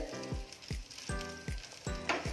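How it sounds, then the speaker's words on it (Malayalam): Butter sizzles steadily as it melts in a large pot while chicken mandi is being made, with regular scraping strokes of a utensil repeating roughly every half second, close and clear. "അപ്പോൾ നന്നായിട്ട് ബട്ടർ ഉരുകി വരുന്നുണ്ട്"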